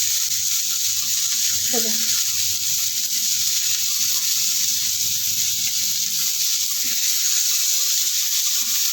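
Paneer cubes fry in a pan with a steady, close, high sizzle that runs throughout, while someone speaks briefly over it.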